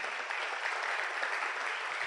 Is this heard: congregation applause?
yes